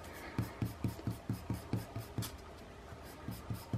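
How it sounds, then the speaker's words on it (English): A rubber eraser scrubs pencil marks off paper in quick, evenly spaced back-and-forth strokes, close and fairly quiet, with a brief pause before the rhythmic rubbing resumes. "erasing all my little pencil marks because I didn't follow them exactly"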